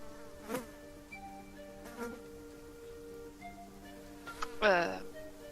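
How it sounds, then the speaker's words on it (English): Faint jungle insect ambience plays behind a tabletop roleplaying session, with buzzing drones and a few brief chirping bursts. A voice is also heard in the background. "And you hear insects buzzing all around you."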